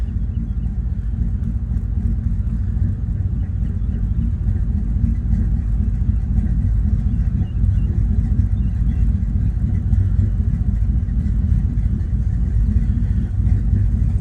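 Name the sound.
Chevrolet Silverado engine idling with lopey ghost cam tune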